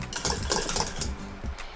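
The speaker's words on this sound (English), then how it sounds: "an actual trick is to take it off the heat and give it a stir" A spoon stirs thickening crème pâtissière in a pan off the heat, giving a busy run of close metallic scrapes and clinks that continues steadily with no voices.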